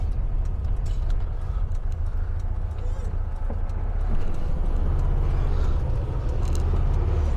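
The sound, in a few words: 1972 Volkswagen Beetle 1303 S driving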